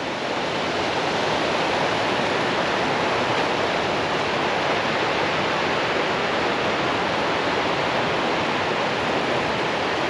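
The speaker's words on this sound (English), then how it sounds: "We're right next to Reed Creek, coming out of Reed Lake." Reed Creek rushes out of Reed Lake in Alaska's mountains, a loud, steady broadband wash of flowing water close by with no break or change across the whole stretch.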